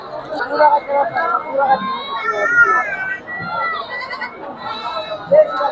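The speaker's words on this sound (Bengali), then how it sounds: "সো যারা বিটল ছাগল নিতে চাচ্ছেন বা বিটল ছাগল যারা আপনারা পালন করতে চাচ্ছেন, এই ছাগলটা দেখতে পারেন" Beetal goats and kids bleat at a crowded rural livestock market in Natore, their cries rising over steady chatter and people talking nearby.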